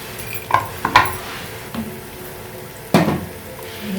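Onions frying lightly in a pan on fairly high heat, stirred now and then, giving a few distinct scrapes and clinks of a spoon against the pan over a soft, quiet sizzle.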